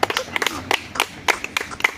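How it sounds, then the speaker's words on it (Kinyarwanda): An audience claps at a comedic Rwandan bride-price ceremony, a short burst of sharp, irregular handclaps with a few louder peaks, fairly close and loud. "ndagira ngo tubahe amashyi rwose"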